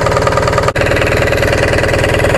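An old, rusty Onan diesel generator idles close by with a loud, steady rhythmic chugging and a brief dip near the start.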